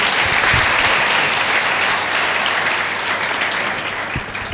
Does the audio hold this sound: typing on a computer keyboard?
no